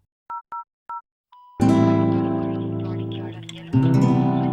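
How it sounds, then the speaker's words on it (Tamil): Telephone being called: three short dialing beeps and a brief tone, then a loud steady dial tone that holds for several seconds with a short dip before resuming, close and clear. "ஒரு ஃபோனை போடுறான்"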